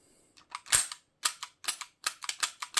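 A Crosman R1 4.5mm BB CO2 air rifle fires a string of sharp, snappy shots close by, one loud crack followed by a rapid, slightly uneven volley of quick pops, with no voices.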